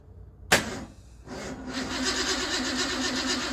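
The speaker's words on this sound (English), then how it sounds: "And there goes the starter solenoid again." A car starter solenoid clicks sharply, then the engine cranks and settles into a steady running drone on a project car after a new fuel system and harmonic balancer were fitted, loud and close.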